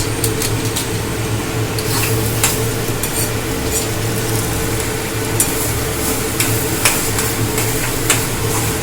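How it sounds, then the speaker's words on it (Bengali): Soya chunks with half a spoon of biryani masala are stirred and fried in a pan, a continuous sizzle broken by scraping spatula strokes, close and fairly loud, with no talking. "এবার কিন্তু সয়াবিনটা আমার কষা হয়ে এসছে"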